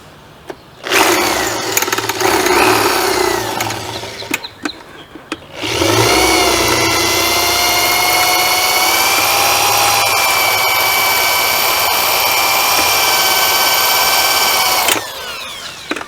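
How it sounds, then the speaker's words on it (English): A power drill bores out a bolt hole on a Peterbilt truck, a loud, close, high whine that runs briefly, pauses, then holds a long steady spin before stopping. "Now we're just going to drill out the last hole."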